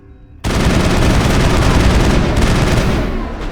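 Gunfire erupts abruptly in Mass Effect after a brief quiet moment, a loud, continuous barrage of rapid shots and booms that holds steady to the end.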